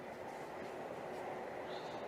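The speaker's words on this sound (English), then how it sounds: "The train is moving now." Steady, even rumble of the Jakarta-Bandung high-speed train in motion, heard from inside a carriage as a constant broadband hum with a faint higher whine, no talking.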